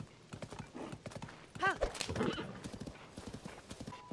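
Horse hooves clip-clop steadily in Zelda: Tears of the Kingdom while the horse, Shadow, gives a brief whinny partway through; the trotting is close and moderately loud, with a voice talking softly underneath.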